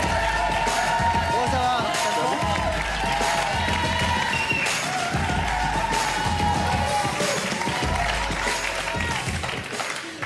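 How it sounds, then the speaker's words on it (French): A French TV studio audience applauds and cheers guests arriving on a late-night talk show, sustained loud clapping with crowd noise, music and voices mixed underneath throughout. "On les applaudit fort ce soir"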